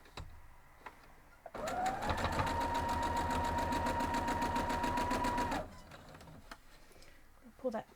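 A sewing machine stitches a quilt block seam in a steady rapid whir with a rhythmic needle clatter for about four seconds, then stops; quiet handling noises come before and after.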